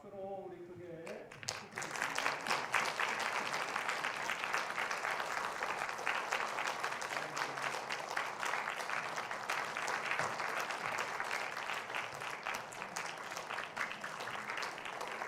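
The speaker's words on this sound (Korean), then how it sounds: "우리 박수로 우리 크게." A church congregation applauds at a retirement ceremony during a Sunday worship service, a dense, sustained roomful of clapping that starts abruptly and runs steadily at an even level, with a voice briefly heard at the start.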